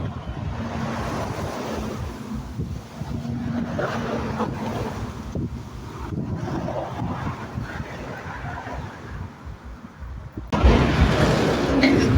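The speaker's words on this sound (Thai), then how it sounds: "ลมแรงครับวันนี้" Strong wind gusting over a canal during fishing, a steady roaring rush with choppy water sounds, loud and continuous throughout, with a harder, louder blast near the end and no talking.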